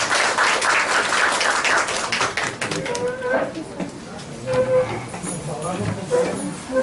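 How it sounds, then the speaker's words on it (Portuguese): A room of attendees at a study conference breaks into a round of clapping that is strongest at first, then thins into scattered claps as murmuring voices take over. "Pessoal, uma salva de palmas nós batemos."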